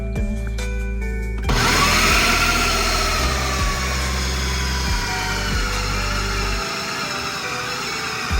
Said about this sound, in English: you see this blender?